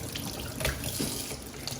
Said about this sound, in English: all I do is I let the water on and just put it right up there and let the water pressure pretty much